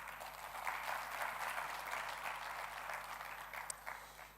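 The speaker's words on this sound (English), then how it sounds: "just take a moment and give yourselves a round of applause" Audience at a town hall gathering gives a short, faint round of applause, a soft even patter of clapping lasting a few seconds with no talking.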